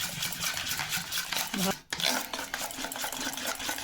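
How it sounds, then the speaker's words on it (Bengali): Batter for ashke pitha is beaten with a little baking powder in a bowl. The whisking and stirring is steady and busy, with a brief pause midway before it carries on. "হালকা একটু বেকিং পাউডার দিলাম, হালকা। এটাকে ভালো করে ফেটে নিতে হবে"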